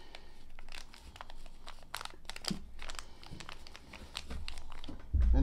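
Paper being handled for an origami squash fold, with soft crinkling and crisp rustles arriving in short bursts at close range, ending in a louder rustle.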